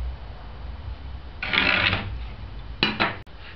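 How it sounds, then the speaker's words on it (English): A scribing tool scrapes along a wooden bird house side panel in two close rasping strokes, the first longer and the second short, heard alone and fairly close. "Next, I measure 1 inch down and repeat that scribe from this point."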